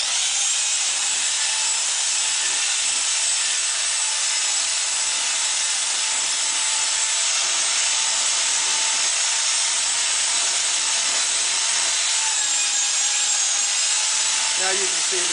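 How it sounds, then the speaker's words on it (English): HPC hot pipe coating mix being stirred in a container, a continuous gritty scraping and rubbing texture that holds steady and loud throughout with no pauses. "Now you can see that the coating is beginning to loosen up, and you want to continue to stir until you have a nice fluffy mix"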